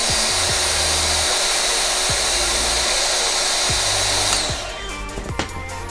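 A Bosch GKF 12V cordless trimmer runs at full speed with a loud, steady high whine that cuts off near the end, leaving scattered low knocks.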